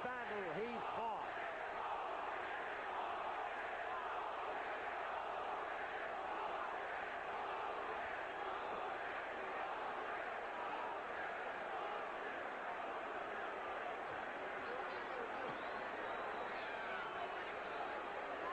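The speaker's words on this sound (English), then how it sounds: "You've heard the crowd." Roaring arena crowd at a world heavyweight championship boxing match, a dense, sustained wall of cheering and shouting that holds steady and loud throughout, with no clear single voice standing out.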